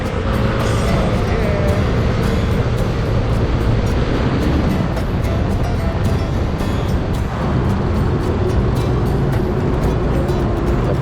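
A Yamaha NMAX scooter ridden through traffic, its engine hum under steady wind rush and road noise, loud and unbroken throughout.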